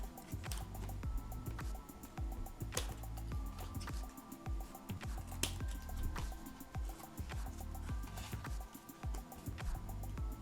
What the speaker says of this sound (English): we're going to cut these pieces off.